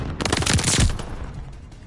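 Rapid automatic gunfire from a Call of Duty match fires in a quick close burst of several crisp shots, loud at first and trailing off into a fading echo within two seconds.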